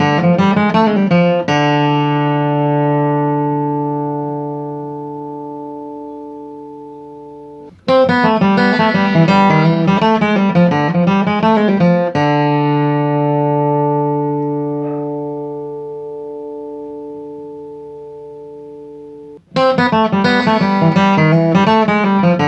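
Bluegrass guitar lick, flatpicked with subtly accented downstroke first notes; a clear, close acoustic phrase repeats three times, each run ringing out and decaying before the next begins.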